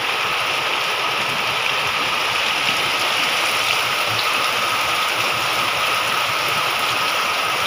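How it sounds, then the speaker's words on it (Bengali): Steady rain pouring outdoors, a dense even hiss of drops on surfaces heard from nearby, constant in level with no voices. "বৃষ্টির শব্দটা কত সুন্দর লাগছে দেখছেন।"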